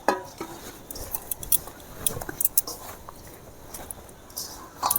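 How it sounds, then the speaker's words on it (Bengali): Black and white mustard seeds being mixed together by hand, heard as soft, close rustling and gritty scraping with scattered light clicks, steady and uneven throughout, with no talking. "কালো সরষেটাও সাদা সরষের সাথে মিশিয়ে দিলাম"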